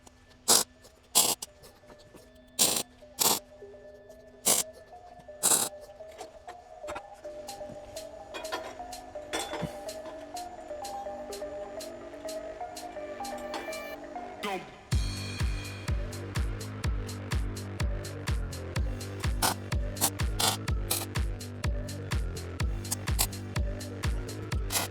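Tack welding steel frame brackets onto a sim racing seat bracket: a run of short, sharp crackling bursts with gaps between them, then a denser, steadier buzzing stretch with rhythmic pulses, fairly close and with no one talking.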